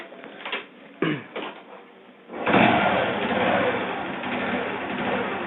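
A motorcycle engine low on oil starts after a few clunks and settles into a rough, uneven, knocking idle with a steady ragged rumble, fairly close.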